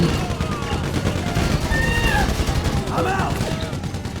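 Rapid gunfire from an AK rifle in the GTA V video game, a dense and continuous rattle of shots throughout, with someone talking excitedly over it.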